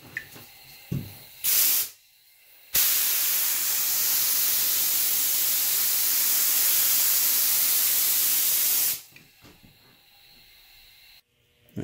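A spray can lays down clear coat over a painted piece in one long continuous hiss of about six seconds, loud and close, with quieter handling noises and short bursts before and after.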